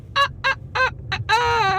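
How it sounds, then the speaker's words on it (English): A chicken sound effect of four short squawks is followed by a longer drawn-out cackle, loud and close over a low background hum, with no talking. "That chicken sound like it needs some help."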